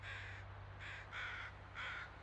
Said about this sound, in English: And also crows active somewhere.